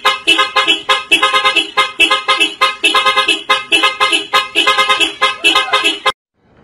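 A loud horn sounds in rapid repeated bursts, a steady rhythmic honking pattern lasting several seconds before cutting off abruptly.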